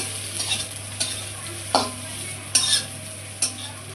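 Low steady sizzling of food frying in a pan, broken by a few sharp scrapes and taps of stirring.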